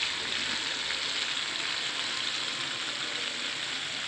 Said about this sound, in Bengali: সবজিগুলো ভাজা নেব, সবগুলো সবজি একবারে দিয়ে দিতেছি।